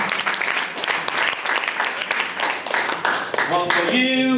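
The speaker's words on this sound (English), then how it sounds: "give these people a big round of applause" An audience claps loudly for participants at a hypnosis show, a dense, lively round of applause that runs throughout, with a voice starting to speak over it near the end.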